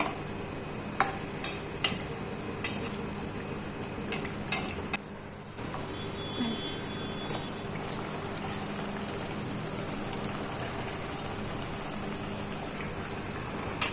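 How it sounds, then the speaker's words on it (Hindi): Egg paratha frying in a pan over a medium flame, a soft continuous sizzle with occasional light clinks of a utensil against the pan, steady and fairly quiet with no talking. "और अच्छे से फ्राई कर लेंगे मीडियम फ्लेम पे"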